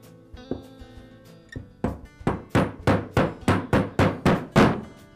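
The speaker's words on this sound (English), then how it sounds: "I've tapped both sides of the crankcase housings close enough together" Halves of an Echo trimmer crankcase are tapped together with a new gasket between them, a few scattered knocks followed by a quickening series of about ten sharp, close hammer taps.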